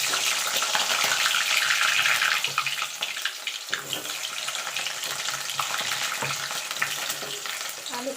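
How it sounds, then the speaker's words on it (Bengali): Halved potatoes fry in hot oil for a mutton curry with potatoes, giving a loud, steady sizzle with some stirring, dipping briefly near the middle before carrying on continuously. "আলুগুলো দিয়ে আমি লাল লাল করে ভেজে নেব"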